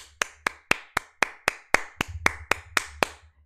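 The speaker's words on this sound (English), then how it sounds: "And I give you 13 claps." Thirteen sharp hand claps in a steady, even rhythm, close and loud, each a crisp broadband slap with a brief tail, a low rumble running faintly underneath.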